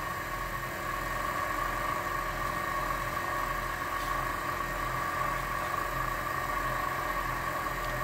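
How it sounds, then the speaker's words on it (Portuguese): A wood lathe spins a wooden fountain pen during wax friction polishing, giving a steady, moderately quiet motor hum with a faint vibration throughout. "Agora nós vamos acelerar um pouco para que a madeira aqueça e a cera penetre"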